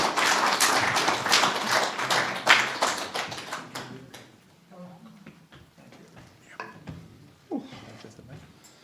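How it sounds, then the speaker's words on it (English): Audience applause greets a guest speaker at an art, poetry and music celebration: dense, loud clapping from a crowd for about four seconds, then fading into scattered claps, small knocks and room noise. "So with your warm round of applause and permission, make him feel welcome"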